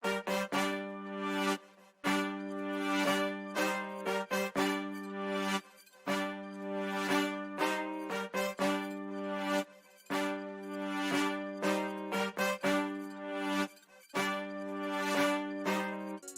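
Brass pattern from the Session Horns Pro library on its default preset, played with a keyswitch: punchy stacked horn chords hit in short rhythmic stabs with brief gaps, loud and upfront, with no voices.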